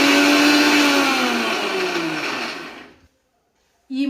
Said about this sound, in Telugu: ఇప్పుడైతే మసాలా వాడికి మిక్సీ పట్టేసుకుందామండి